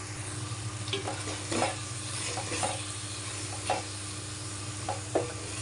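Cumin powder and garam masala being stirred into a frying pan, a soft steady sizzle broken by a few distinct scrapes of the spoon against the pan, with no voices.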